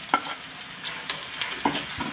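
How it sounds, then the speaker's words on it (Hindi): Finely chopped onions added to a pan of fried garlic give a quiet, faint sizzle, broken by a few sharp utensil taps and stirring clicks. "तो प्याज को ऐड कर देते हैं।"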